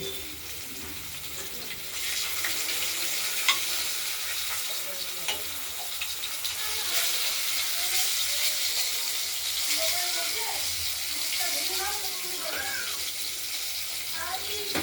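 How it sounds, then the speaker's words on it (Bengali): Catla fish pieces frying in a pan, a loud continuous sizzle and spitting of hot oil with bubbling pops, steady throughout. "মাছটা ভাজা হচ্ছে।"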